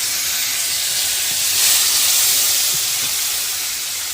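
Green chilies and cumin paste sizzle in hot frying oil, a steady close bright hiss that swells slightly in the middle and carries on alone without talk.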